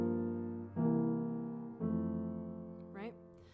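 Jazz piano playing a four-note close-position chord voicing in another inversion, three sustained chords struck in succession and left ringing, soft and close, with a faint voice briefly near the end.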